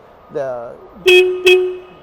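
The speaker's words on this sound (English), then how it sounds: "There's a channel here that your finger lays in to honk the horn" Two short, loud honks from a reach truck horn, quick and close, preceded by a brief tonal whine.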